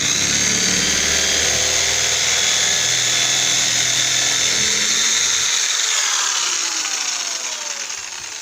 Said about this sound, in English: I've just replaced the bore drill with just a straightforward drill bit, and I'll just drill